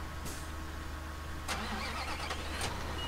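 A construction vehicle in the Bau-Simulator 2015 game starts up and pulls away, a low steady engine drone underlying a couple of sharp mechanical clunks and a brief rising whine.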